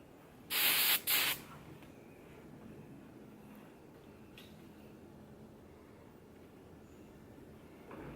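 Two quick bursts of hairspray from an aerosol can, each about half a second, loud and close, misted onto short hair in a quiet room with no talking.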